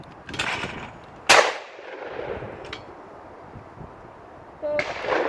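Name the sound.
shotgun shot at a clay target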